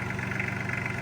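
A Kubota L3130 compact tractor fitted with an LA530 loader idles steadily, its diesel engine giving a close, even, continuous rumble with no speech over it.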